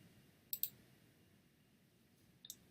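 Computer mouse clicks: a quick close double click, then after a pause a second faint double click, sharp and crisp in a quiet room with no talking.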